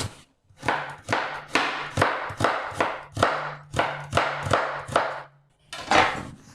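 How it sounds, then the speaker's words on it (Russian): A knife chops a carrot into julienne strips on a cutting board, about a dozen crisp, evenly paced thuds close by, with a short pause before a final cut and no voices. "Вторую морковь нарежу соломкой."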